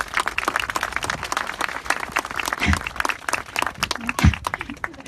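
Audience clapping at an MDL Group groundbreaking ceremony, a moderate crowd applauding steadily for several seconds, with a couple of louder low thumps partway through.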